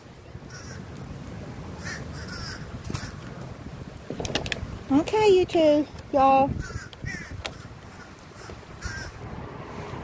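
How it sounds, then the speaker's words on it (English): Crows caw loudly in a burst of several harsh calls mid-clip while feeding on old lettuce set out near ducks and a turtle, with a person speaking briefly and light outdoor background noise. "Here comes the crow."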